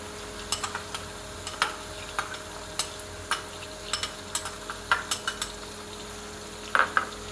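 Chicken frying with ginger garlic paste in a pan, a soft steady sizzle under repeated light clicks and scrapes of a spoon stirring against the metal, close up and with no talk.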